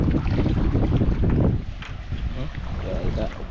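Steady, loud wind rushes and buffets against the microphone by the sea, with a low rumbling roar throughout and faint voices in the background.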